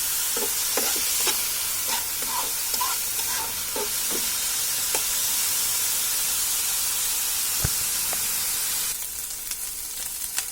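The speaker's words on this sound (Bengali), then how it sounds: "এটা ভাজতে 5 মিনিট লাগবে, যেহেতু এটা জুলিয়ান করে কাটা" Julienne-cut meat sizzles in a hot pan, a broad steady hiss with scattered crackles and a few stirring scrapes early on, heard up close without speech.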